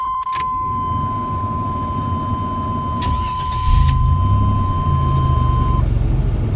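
Two sets of keys for a 1986 Buick Regal T-Type Turbo jingle in short metallic bursts over a steady door chime tone, while the engine idles low underneath.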